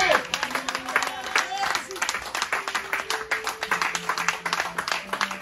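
A church congregation claps in rhythm during worship, with steady, even beats carrying on beneath a preacher's voice and sustained musical tones.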